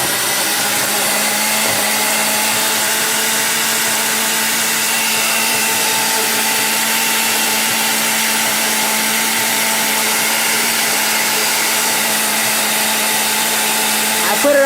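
Countertop blender running on its smoothie setting, blending watermelon and peach into a smoothie; a loud, steady high-pitched whir continuing unbroken for the whole stretch.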